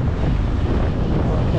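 Strong wind blowing outdoors in Canada, buffeting the microphone as a loud, continuous low roar.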